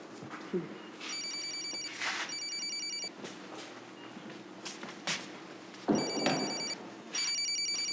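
A telephone rings in a hospital emergency room setting, with two pairs of electronic trilling bursts separated by pauses, accompanied by faint shuffling footsteps.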